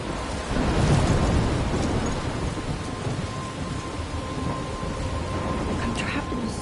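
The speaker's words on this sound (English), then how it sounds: "I'm trapped in a storm?" Stormy weather in the video game Life is Strange, with steady heavy rain and rumbling thunder rolling continuously at a fairly loud level.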